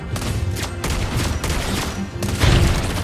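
Repeated loud gunshots from Lesley, the sniper hero in the mobile game Mobile Legends, come in sharp sharp bursts with a heavier booming volley near the end, over busy battle effects.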